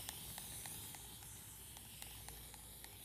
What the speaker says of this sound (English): We're gonna spray a little water.